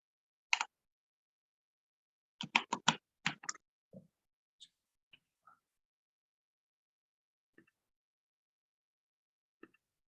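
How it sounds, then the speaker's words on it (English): Scattered keyboard keystrokes click in short bursts, a quick cluster in the middle, then isolated faint taps separated by silence. "I hear typing."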